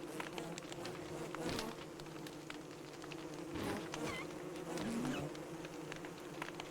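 Bees in the video game Don't Starve buzz continuously and fairly close, a dense droning hum with slight swells in loudness and no talking.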